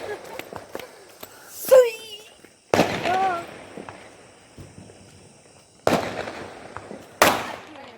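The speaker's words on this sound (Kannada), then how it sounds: "ಲಕ್ಷ್ಮಿ ಪಟಾಕಿ ಹೊಡಿತಾರೆ" Several loud firecracker bangs go off at irregular intervals, sharp and close, with a whistling rise before one burst and people talking in between.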